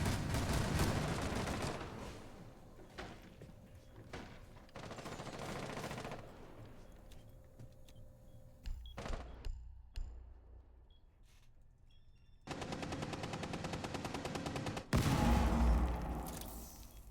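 Gunfire bursts in a Rainbow Six Siege esports match, with rapid automatic fire in dense stretches, sharp isolated shots in between and a loud close-range blast near the end, all heard alone without talk.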